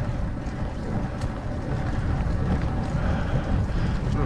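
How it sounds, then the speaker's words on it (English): Wind roars over a cycling climb at Stone Rigg Outrake in the Yorkshire Dales, near Dent. It is a steady, close buffeting rumble that lasts the whole time, with no talk. "It's nice windy. Yorkshire Dales."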